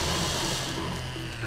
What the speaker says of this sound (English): Chainsaw it is.